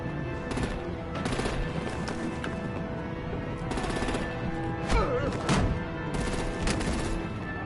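Rapid bursts of artillery and automatic gunfire crackle through a battle in the Telltale Batman video game, loud, dense volleys repeating across the whole stretch with a few heavier impacts near the end.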